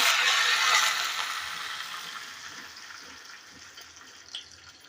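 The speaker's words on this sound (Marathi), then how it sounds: "फोडणी आपली चांगलीच बसलेली आहे" Curry leaves sizzle and crackle in hot oil while tempering for coconut chutney, a bright hiss that starts strong and gradually fades to a softer simmer.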